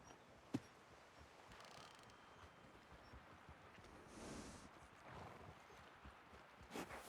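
Horse hooves clip-clop softly and at a distance in the Red Dead Redemption 2 video game, a faint, uneven series of steps over a quiet ambient bed with a couple of sharper knocks.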